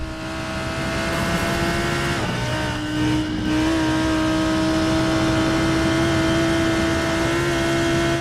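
A GT3 race car engine in a racing video game on the Nordschleife holds a high, steady drone, with a brief dip and shift in pitch partway through, then settles back into a loud, continuous roar.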